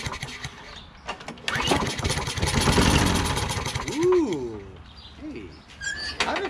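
A Toro Recycler lawn mower engine being revived after choking sputters, catches and roars to a running idle, loud and close, with a voice speaking over it briefly.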